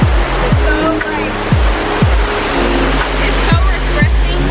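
Water pours steadily at Burgess Falls, a loud, continuous roar close by with a few low, rhythmic rumbles beneath it.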